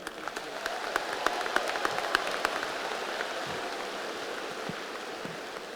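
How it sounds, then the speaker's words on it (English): Continuous applause from a crowd at a high school commencement ceremony, a dense patter of many hands with a few sharper claps standing out early, holding steady before easing slightly. "Please continue your round of applause for esteemed school board member Terry Caldwell Johnson"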